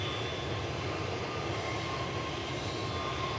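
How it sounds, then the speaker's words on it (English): Steady, loud roar of jet airliner engines close by at Manchester Airport, a constant broadband rush with a faint high-pitched whine held throughout, no talk over it. "But the engines on that one sound great, like Yeah. quite high pitch."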